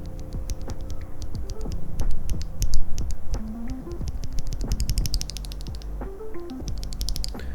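Rapid, crisp typing on a budget mechanical keyboard with stock switches, the keystrokes close up and sharply clacky in a dense, steady stream with no spring ping.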